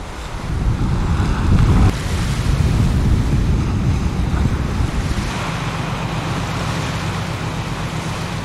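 Rough seas off Jeju under a storm warning churn and crash around a vessel while strong wind buffets the microphone, a loud, continuous roar.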